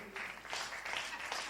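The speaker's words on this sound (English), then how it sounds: "Clap for them." A short stretch of crowd applause at a district officers luncheon, many hands clapping in a continuous patter, moderately loud and slightly distant.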